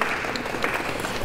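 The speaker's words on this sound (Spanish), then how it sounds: "Un aplauso para ella." Short burst of cheering and clapping from family and friends at a baptism, brief and loud with excited voices mixed in.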